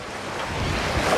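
Rough Mediterranean sea waves surge loudly and continuously off Malta near a fish farm, with broadband wash and wind noise across the whole moment, no talking.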